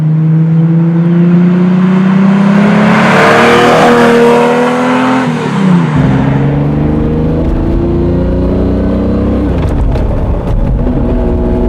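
A loud, close Lamborghini Diablo engine revs up through rising gears with strong harmonic whine, shifts, and keeps accelerating; no speech.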